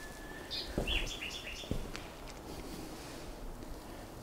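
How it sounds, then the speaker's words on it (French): Nightingales singing inside a large old building, giving a few faint, scattered chirps and trills over quiet room tone. "il y a encore les rossignols qui chantent"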